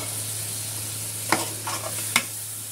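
Washed chicken goes into frying masala for a Hyderabadi white chicken pulao, with a low steady sizzle and two sharp spoon scrapes and knocks against the pot, close by.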